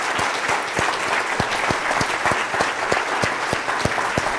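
A church congregation claps together, a steady wash of applause with strong rhythmic unison beats pulsing through it at a brisk, regular pace.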